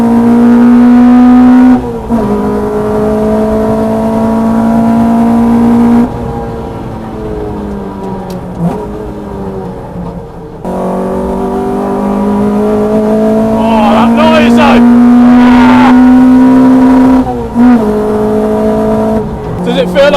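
A 250bhp Renault Clio Mk3 R27 F1 with individual throttle bodies accelerates at full throttle on a track, its loud engine note climbing through the revs with several gear changes, and a voice talks over it.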